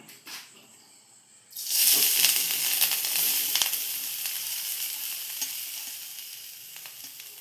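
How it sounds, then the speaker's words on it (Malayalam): Grated coconut dropped into a pan with a spoon of oil and chilli powder for shark curry, bursting into a loud continuous sizzle that holds steady and close, with faint stirring scrapes, no voices. "നമുക്ക് തേങ്ങ അതിലേക്ക് ഇട്ട് വറുക്കാം"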